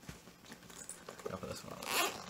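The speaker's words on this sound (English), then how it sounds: "the zipper goes down to here" Zipper on a college backpack pulled partway open, a quiet, rough scraping run that builds to a brighter rasp near the end, close by, with a voice murmuring faintly in the background.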